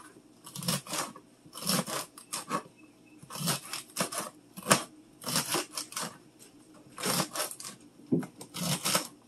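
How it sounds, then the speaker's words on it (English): Celery stalks chopped all the way through with a knife on a cutting board, a steady series of crisp crunching cuts in quick bursts, close and clear with short pauses between rows of strokes. "I'm going to cut the celery all the way through."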